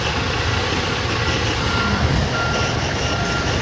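Truck reversing alarm beeping steadily from a day cab tractor backing up, set against a constant loud diesel engine rumble and road noise, with no talk.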